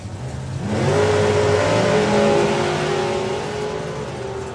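A drag racing car at the FIA Main Event roars up loud and close, its engine note rising as it accelerates down the strip, then holding a sustained high-revving drone.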